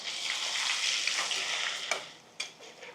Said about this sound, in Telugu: 1 రెండున్నర టీ స్పూన్లు అల్లం వెల్లుల్లి పేస్ట్ వేసేసిన ఈ వేడి ఆయిల్.